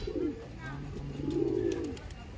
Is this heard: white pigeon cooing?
yes